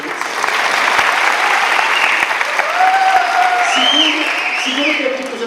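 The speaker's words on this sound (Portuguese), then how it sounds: "eu queria pedir primeiro uma salva de palmas a Zeno Veloso" Loud, steady applause from an audience at a legal round-table conference, a dense clapping wash lasting several seconds, with voices talking over it.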